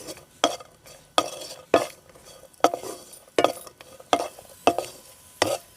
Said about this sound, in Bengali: কাজু কিশমিশটা ভাজা হয়ে গেছে।